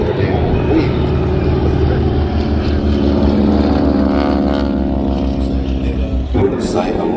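A propeller aircraft drones steadily at a Midlands Air Festival wingwalking display, its loud engine tone persisting throughout while a voice talks over it.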